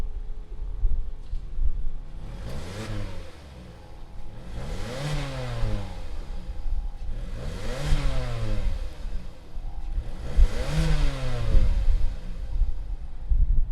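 A 2019 Mazda CX-3 touring compact SUV engine revs repeatedly, four rising-and-falling pulls about every three seconds over a steady idle, close and fairly loud with no talking.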